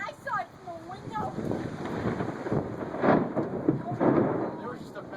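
Thunder from a close lightning strike as a storm approaches near the Lynn/Saugus line, deep rumbling swelling twice with heavy crashes amid wind noise, while people talk nearby throughout.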